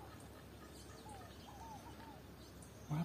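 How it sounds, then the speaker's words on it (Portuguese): Scaled dove (rolinha fogo-apagou) singing in a rural Brazilian setting, faint repeated cooing notes at a distance over quiet background, with a brief louder sound at the end. "Esse pássaro chama Rolinha Fogo Pagou."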